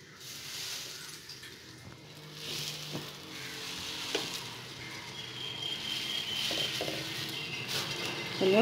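Moong dal and drumstick (moringa) leaves fry in a pan over a medium flame, giving a soft, steady sizzle with light stirring scrapes, fairly quiet throughout.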